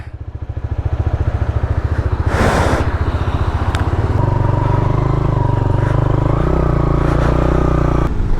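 A Hero Xtreme 4V motorcycle rides along, engine humming loud and close with a steady low drone, a brief whooshing burst midway and faint clatter from the road.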